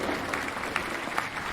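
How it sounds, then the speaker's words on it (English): A short burst of canned applause is played during a live game show stream, an even wash of clapping with a few sharper claps, heard on its own. "Have a little bit of applause to go with it."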